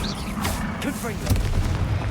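Booming fire-spell blasts from the Hogwarts Legacy video game, a few loud impacts crackling over a dense rumble, mixed with game voices.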